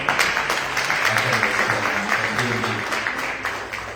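Scattered audience clapping at a community sports day event in Boston, moderately loud and continuous with murmuring voices mixed in.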